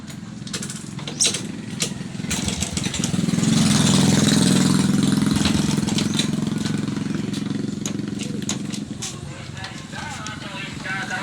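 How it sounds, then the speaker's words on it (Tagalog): A Honda Wave 100 motorcycle engine idles with a noisy timing chain and roller guide, its even mechanical chatter swelling louder mid-clip as it revs slightly, then settling, with people talking nearby. "Wave 100. Palit lining daw to. Tsaka time chain at roller guide. Maingay na daw to, sabi ng mayari."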